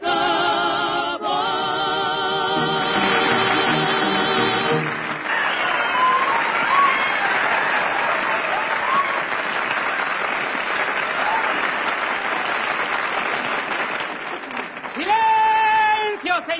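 Once a song by Don Miguel Castillo ends, an audience bursts into dense, sustained applause for about ten seconds, with the tail of the music audible before it and tonal notes returning as the clapping dies away.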